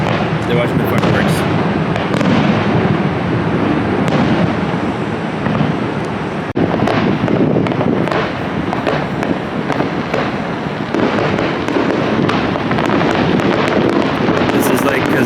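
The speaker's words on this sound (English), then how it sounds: "They're watching the fireworks." Fireworks over Niagara Falls crackle and thump at irregular intervals over a heavy, steady rush of water and wind, while people talk nearby.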